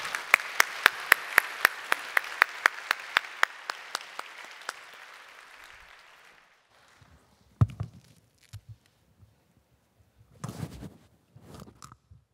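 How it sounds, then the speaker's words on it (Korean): Church congregation applauding to welcome Deacon Jang Ye-ji to the front at a Sunday Easter service: about five seconds of steady, fairly loud clapping from a crowd, fading out, followed by faint shuffling and footsteps. "우리 나오실 때에 우리 박수로 환영해 주시기를 바랍니다"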